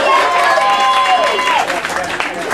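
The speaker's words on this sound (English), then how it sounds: "You can clap for him again if you'd like" An audience claps for a star guitarist, a steady wash of applause with a voice rising over it, thinning out toward the end.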